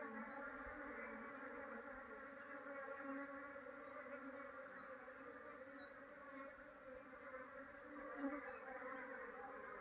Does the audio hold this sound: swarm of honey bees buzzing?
yes